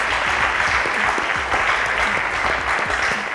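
Applause from a quiz show audience after a correct numeracy answer, a dense steady patter of many hands filling the room at full loudness throughout, with faint voices murmuring underneath.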